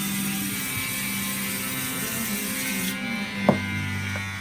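A barber disinfecting tools at the station, with a steady electrical hum and a brief metallic click or spray burst near the end, close by and with no talking.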